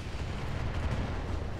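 Several LRM missiles launch at once in the BattleTech game Roguetech, a dense rumbling roar of overlapping blasts that fills the short moment at steady loudness with no voices over it.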